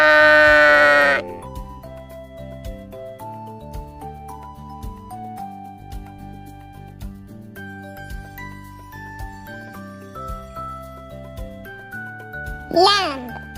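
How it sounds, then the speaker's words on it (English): A sheep bleats loudly and close for about a second at the start, among other farm-animal sounds, over continuous light instrumental music with a tinkling melody. "Sheep."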